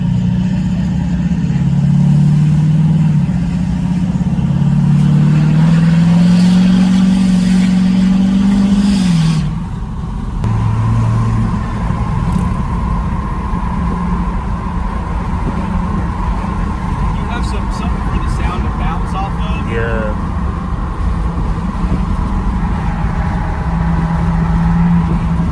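Ford Powerstroke diesel pickup truck, 3-inch leveled, accelerating on the road, its engine droning loud and rising in pitch, then shifting and settling into a steady cruise, with a voice talking over it.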